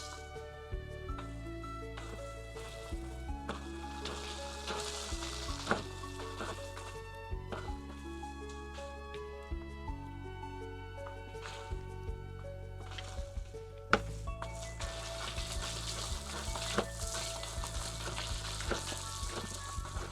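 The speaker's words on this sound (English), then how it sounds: "Hopefully you can hear it sizzling." Chicken frying in a pan for miso ramen, a faint, steady sizzle running the whole time beneath louder background music.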